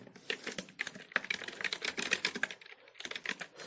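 Code being typed on a computer keyboard while writing a C program, quick irregular key clicks in close succession, a brief pause near the end before more keystrokes, close and fairly quiet.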